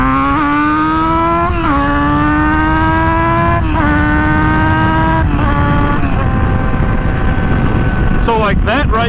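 A regeared motorcycle accelerating hard under throttle, its engine winding up loud and close through several gears, with each shift briefly dropping the pitch, all over heavy wind roar.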